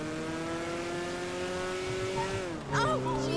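Car engine in GTA Online, the Cayo Perico update, a steady high drone that drops in pitch near the end as squealing, whistling sounds flare, with a voice faintly under it.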